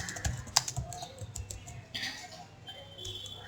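Someone types on a computer keyboard while entering text into an Excel input message box. The close, irregular clicks of keys and a few louder taps come in uneven bursts, with no talking.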